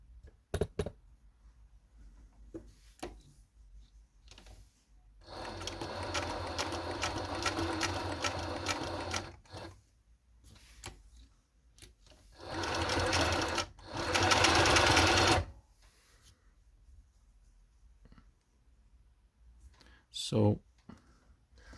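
Necchi sewing machine stitching through layered leather, running in two loud sustained bursts of fast rhythmic whirring and clatter, separated by quieter stretches of light handling clicks.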